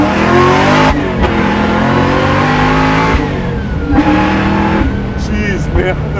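A 750 hp supercharged LS9 V8 in a convertible pro touring Camaro revs loudly and repeatedly from inside the car, its rising and falling engine note steady under brief talk.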